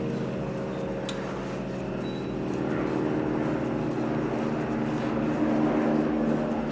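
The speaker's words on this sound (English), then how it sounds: "hold on, there's a helicopter" A helicopter flies overhead, a steady droning rotor and engine rumble that fills the whole stretch and swells slightly louder toward the end, with no talking.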